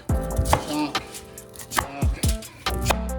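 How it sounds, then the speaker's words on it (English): A sharp knife chops food on a cutting board: about nine crisp, close thuds in an uneven rhythm, some in quick pairs, with faint clatter between strikes. "I got a sharp knife. And we're gonna chop."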